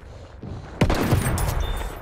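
Gunfire in Battlefield 1 while sniping, starting quiet and then breaking into a loud close burst of rapid shots and rumbling blasts that carry on to the end.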